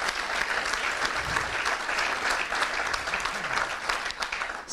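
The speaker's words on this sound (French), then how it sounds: "je vous propose aussi d'applaudir vraiment le passage de tous ces beaux athlètes" An audience applauds athletes at a Champion de ma vie conference, a dense, steady clapping that fills the room without a break for about five seconds, with no voices rising above it.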